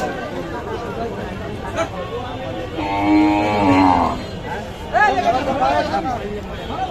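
A cow moos once in a drawn-out call at a busy village cattle market, with a crossbred Sahiwal heifer calf nearby, heard under steady crowd chatter and someone talking close by.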